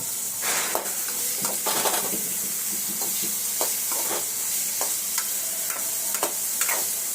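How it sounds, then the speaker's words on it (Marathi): Chopped onion sautéed on a high flame for a quick prawn dish, a steady sizzle and hiss with a few stirring scrapes, close and alone. "कांदा थोडा ऑरेंज होईपर्यंत परता है व्यवस्थित"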